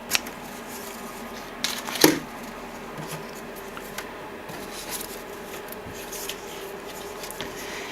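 White paper being trimmed for a handmade paper rose, with soft scissor snips and paper rustling close by, a couple of sharper cuts standing out over a low steady background.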